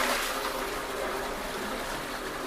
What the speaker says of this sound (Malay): Kemudian kita flush.